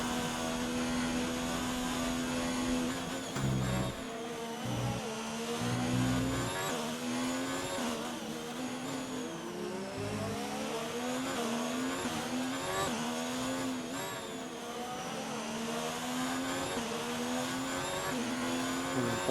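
Formula 1 cars in a racing video game, a continuous high whining engine note rising and falling through gear changes and revs, with other cars' engines layered in.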